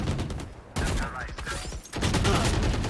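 Bursts of rapid gunfire during a competitive tactical shooter match, dense crackling volleys in three loud clusters with brief lulls between them, up close.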